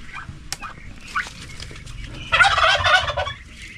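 A turkey gobbles in a loud, rapid, rattling burst, preceded by a few short, quieter calls.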